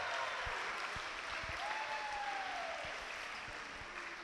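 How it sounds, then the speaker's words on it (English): Crowd applause fills a school gym during a boys volleyball senior night, a steady, dense clapping that holds loud throughout and fades slightly at the end. "Everybody, a round of applause for number 1 senior tonight, Brad Kolditz."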